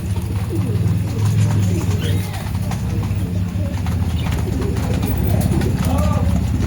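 Pigeons coo in soft, repeated low throaty calls, several birds overlapping close by, with a faint steady hum and scattered bird noises in the background.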